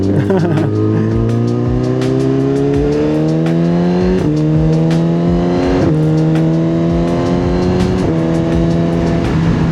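A loud car engine revs and holds high, its pitch stepping up in surges with a continuous roaring drone throughout.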